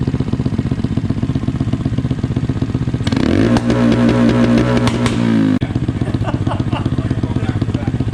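A Honda Grom motorcycle on a dyno, its single-cylinder engine pulsing fast, then revving hard up to about 7,000 RPM, holding there loudly for about two seconds before dropping back. Throughout, a person talks over it.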